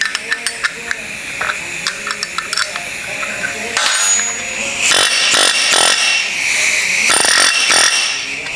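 A homemade handheld pneumatic planishing hammer rattles in fast bursts, first in short taps and then in longer loud runs as it strikes sheet metal, close by, with voices talking between bursts.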